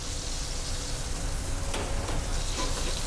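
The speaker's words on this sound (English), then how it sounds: "we just sear both sides." Scallops sear in a hot pan for Coconut Lagoon, giving a loud, steady sizzle throughout with a few sharper crackles and no voices.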